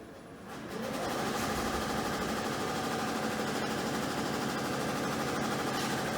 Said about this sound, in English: It sounded like the motor's not good.